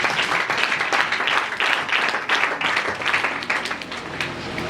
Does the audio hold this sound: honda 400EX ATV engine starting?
no